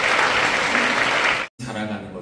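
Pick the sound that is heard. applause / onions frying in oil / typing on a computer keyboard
applause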